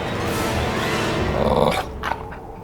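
A dog in an animated cartoon scene growls low and steadily for about two seconds, loud and close, then breaks into a few shorter rough snarls as it fades.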